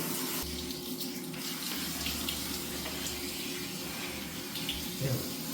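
Water sprays steadily onto a cat's fur during a bath, a constant hiss of running water close by, with quiet speech now and then over it.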